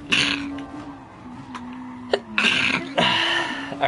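A person sneezes close to the microphone several times in sharp bursts over the steady hum of a race car engine in Gran Turismo Sport.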